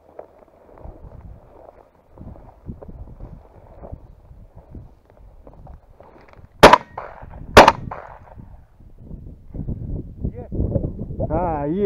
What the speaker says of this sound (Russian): стреляют.